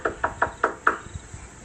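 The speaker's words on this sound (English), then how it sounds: "so I just knocked really hard" Hard knocking on a building's front door as an animated story sound effect: a run of five loud, evenly spaced knocks, then softer, duller thuds trailing off, with no talking.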